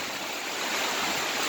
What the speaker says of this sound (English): As you can see, the water is running down the street.